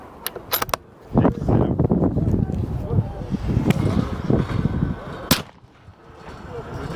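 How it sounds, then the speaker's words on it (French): A few sharp air rifle shots ring out at a hunting show in Mantes-la-Jolie, separated by seconds, over a steady rumble of outdoor noise and some nearby voices. "on tire avec une carabine à plan"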